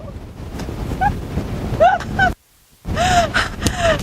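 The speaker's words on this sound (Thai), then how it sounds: "โอ้ยลมมันแรงมากคุณผู้ชม" Strong wind buffets an outdoor microphone at a lotus event at a Bangkok heritage hotel, a loud continuous rushing roar with gusts, cut by a brief dropout before the blast resumes, with faint voices underneath.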